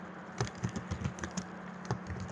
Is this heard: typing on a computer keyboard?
yes